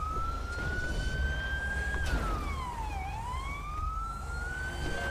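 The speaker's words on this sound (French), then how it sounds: "T'entends les sirènes." A police siren in a video game wails continuously, its pitch sweeping down and back up, steady and moderately loud over a rumbling background.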